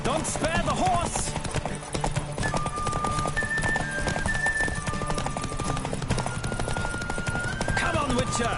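Horse hooves pound in a fast, steady gallop in the Witcher 3 game, layered under music with tonal notes, a brief neigh near the start, and speech in the background.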